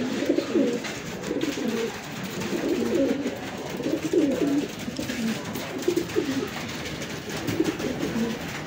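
Racing pigeons coo steadily through a repeating series of soft, throaty calls that sit close by against a constant background hiss, returning birds settling in after a hard race.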